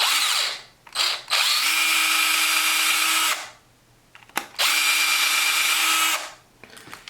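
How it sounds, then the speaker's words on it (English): A power drill bores into a plastic Black Series Clone Trooper helmet in two sustained, loud bursts of whining drilling, separated by brief pauses and short starts and stops, with no talk. "Drilled a little bit,"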